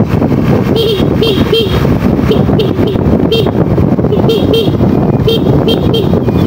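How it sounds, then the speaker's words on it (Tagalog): Short car horn toots sound repeatedly on an uphill road over heavy engine rumble and wind buffeting, with a voice talking faintly underneath. "kailangan natin dito bumusina kasi akyat itong lugar"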